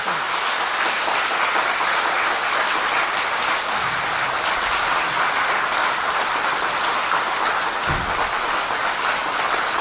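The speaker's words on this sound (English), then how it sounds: "let us once again express our gratitude to the teacher's speech with a warm round of applause." An audience gives a warm round of applause after a teacher's talk at a lecture event. Dense, steady clapping from a large crowd carries on without a break for about ten seconds, loud and close.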